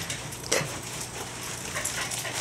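A dog gives a faint, brief whimper at a doorway during Halloween trick-or-treating, nearly lost in steady background noise with no clear talk.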